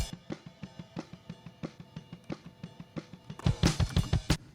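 A soloed floor microphone on a drum kit carries a steady, even pulse of drum hits, with a denser, louder crash-like burst near the end, moderately quiet and with no talking.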